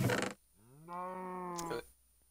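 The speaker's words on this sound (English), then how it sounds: "Oh, there's a cow here." A cow in the video game Minecraft gives one drawn-out moo, moderately loud and alone, after a brief burst of other game noise.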